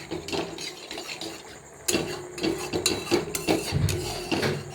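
A utensil stirs a white sauce pasta mixture in a pan, producing repeated close scraping and clacking strokes against the metal in an uneven rhythm, louder in the second half.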